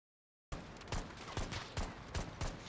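Bursts of gunfire in the shooter game Battlefield 2042 follow a brief silence, with five or six sharp volleys spaced at a rough regular rhythm over a steady background rumble, moderately distant, with no talk.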